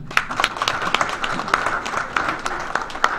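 Applause from an audience at an association's general assembly meeting, a short burst of many hands clapping irregularly at close range, fairly loud and dense for about three seconds.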